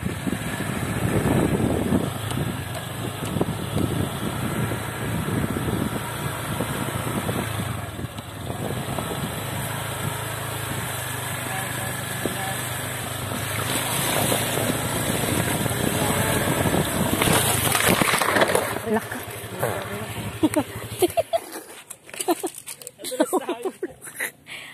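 A boat motor runs on a farm outing, a steady droning hum carrying for about twenty seconds under talking voices before cutting out into scattered knocks and clatter.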